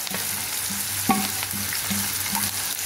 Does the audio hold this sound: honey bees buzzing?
no